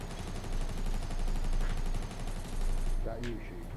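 Sustained automatic gunfire in a Fortnite Battle Royale duo match, a steady rattling stream of shots that carries on loudly before cutting off, with brief voice sounds near the end.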